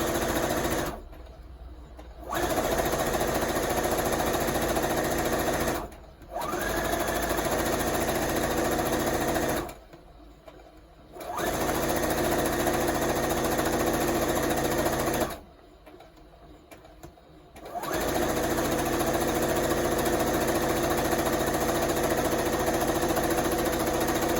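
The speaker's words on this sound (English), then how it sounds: "butting it up against itself, leaving a little bit of a seam allowance, and then we're just going to sew all the way down" A sewing machine stitching a scrap-fabric tube for a hair scrunchie with white thread, running in loud, steady mechanical bursts broken by four brief pauses, close and with no talking.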